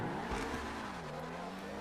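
Race cars launch from a standing start in a video game, engines revving and rising in pitch with tires scrabbling; the sound is brief and fairly quiet, with one car sliding off the line.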